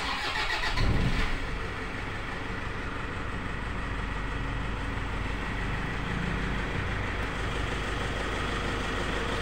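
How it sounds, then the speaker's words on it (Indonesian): A Toyota Fortuner diesel engine cranks briefly and catches, then settles into a steady, rumbling diesel idle that continues loud and close without any voices. "akan kita coba starter untuk mesinnya"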